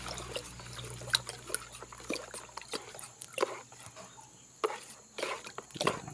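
A homemade aglaonema fertilizer mixture with chopped green onion is stirred by hand, giving intermittent soft wet swishes and small sloshes, heard close and fairly quiet.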